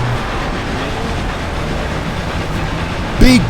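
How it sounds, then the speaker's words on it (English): A train runs in the racing game Forza Horizon 2, giving a steady, continuous rolling rumble with a brief, sharper whistle-like sweep near the end. "the train begins to pull ahead"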